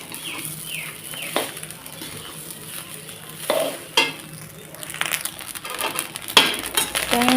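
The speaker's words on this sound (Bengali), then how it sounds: "হলুদটাকে দিয়েও ভালোভাবে কষিয়ে নিচ্ছি" Turmeric sizzles in a hot pan as it is sautéed for khichuri, while a spatula scrapes and stirs with intermittent clacks against the metal.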